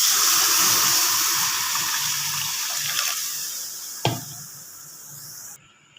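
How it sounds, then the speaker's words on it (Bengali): Water poured into a pan of briefly fried dal, a steady close rushing pour that fades gradually, with a sharp clatter partway through before the flow stops. "এবার জল দেবো।"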